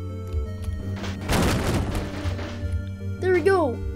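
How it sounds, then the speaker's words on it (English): A baseball bat smashes wooden crates in the Garry's Mod video game, producing a dull thud followed by a loud, close crashing burst of splintering. A voice is heard briefly near the end. "let's use my baseball bat to break these crates"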